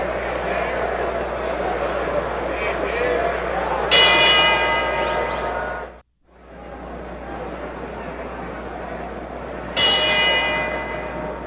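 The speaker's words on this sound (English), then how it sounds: "The bell for round 4" At a George Foreman versus Gregorio Peralta boxing match, the ring bell for round 4 clangs twice with long ringing tails, sounding over a constant roar of crowd noise and a commentator's voice.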